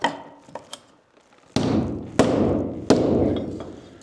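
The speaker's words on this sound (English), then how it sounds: "If you have to hammer on the door, take a couple shims and put that on the door." A few light taps, then three solid hammer blows less than a second apart on shims against a heavy French door, each with a ringing, resonant thud.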